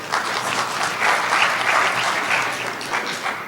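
Sustained applause from an audience at a graduation ceremony, steady and dense clapping filling the hall, swelling slightly around the middle before easing a little toward the end.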